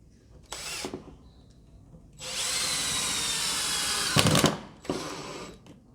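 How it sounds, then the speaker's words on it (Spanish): A power drill boring a countersunk hole in wood: short bursts of whirring, then a sustained loud, steady grinding run that ends in a rougher spike, followed by another brief burst, close up with no speech. "ya podemos perforar el siguiente. Lo estamos haciendo con avellanado"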